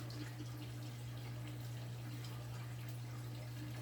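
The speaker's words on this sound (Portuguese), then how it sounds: "Vou esperar aqui ele terminar de descer essa água," Water draining steadily down through a planted freshwater aquarium, a continuous soft trickling wash heard alone under a constant low electrical hum.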